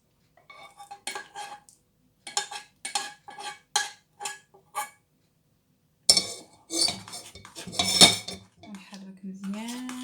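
A spoon stirs a chocolate mixture in a pot, clinking against the metal in short bursts of repeated taps, then building into a denser, busier clatter of scraping and knocks.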